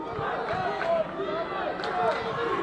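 A crowd at a high school boys' basketball game, Revere versus Chelsea, roars and cheers in a continuous dense wash of voices, loud and sustained from start to finish.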